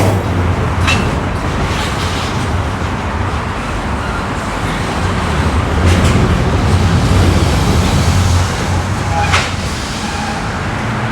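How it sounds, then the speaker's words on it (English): A train rolling over a bridge overhead in Regina's warehouse district, a loud steady rumble and rattle of rail cars that persists throughout, with occasional clanks and a voice speaking briefly. "There's actually a train going over our head right now"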